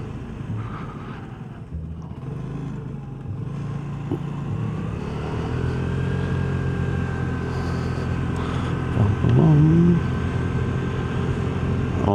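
A Vespa LX150 scooter riding through a quiet neighborhood, its engine humming steadily at close range with a rising whine as it accelerates; no talk.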